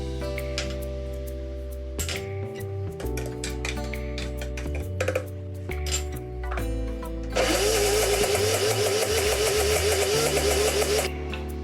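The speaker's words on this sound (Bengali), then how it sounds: "আর এক কোয়া রসুন দিয়ে ভালো করে মিক্সিতে পেস্ট করে নিলাম" A mixer grinder blends ginger, green chillies and garlic into a paste, a loud steady whirring motor that swells into a harsher, brighter grinding roar toward the end, heard alone without talk.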